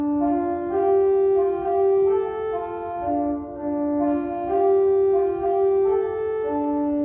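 Opening phrase of the hymn tune New Malden on a sustained keyboard or organ, smooth stepwise melody over held harmony, steady and clear without voices.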